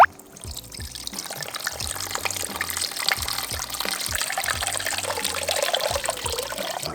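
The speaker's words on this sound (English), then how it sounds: "Now we're going to fill it with water." Water poured from a tap into a pot over chicken for Hainanese chicken rice, a continuous splashing, filling stream that grows slightly fuller as the level rises, heard close and alone beneath a low background hum.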